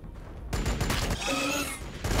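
Dense, rapid gunfire crackles from a Warhammer 40,000 battle video game, a sustained loud fusillade of overlapping shots following a short quiet lead-in.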